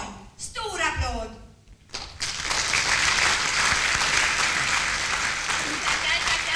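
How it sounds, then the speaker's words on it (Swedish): Audience at a New Year's revue breaks into loud applause after a brief stretch of speech at the start, the clapping swelling at once and holding steady, dense and close, through the rest. "Stor applåd!"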